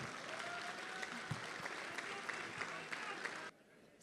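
A live audience at a Republic Day kavi sammelan and mushaira in Dubai applauds a poet, steady dense clapping that fills the room and stops abruptly near the end.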